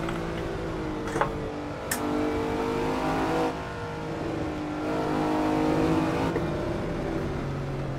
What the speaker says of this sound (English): we will do a third lap with this car